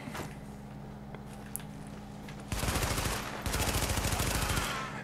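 Gunfire in The Division video game: after a quiet stretch, a dense burst of rapid automatic shots rattles out loud and close, pauses briefly, then another sustained volley follows.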